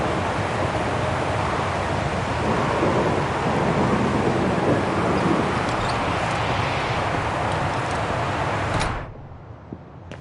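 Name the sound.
thunderstorm in the video game Syberia: The World Before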